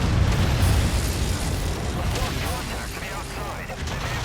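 A destroyed target explodes in Mechwarrior 5 with a loud, rumbling blast that decays into a long roaring tail, while a voice talks over it.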